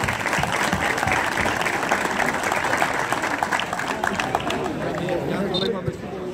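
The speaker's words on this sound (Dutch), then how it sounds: "Dus bij deze Kok, van harte, applaus voor Actor." A crowd at the opening of a new grandstand at UVS breaks into loud, sustained applause that holds steady throughout, with some chatter mixed in.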